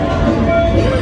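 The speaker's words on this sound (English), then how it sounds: "our train's here" A ride train pulls into a Walt Disney World station for Mickey and Minnie's Runaway Railway, a brief loud rumble with squealing tones, heard near and steady for about a second.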